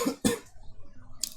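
A person coughs twice in quick succession up close, with a fainter third cough following a moment later.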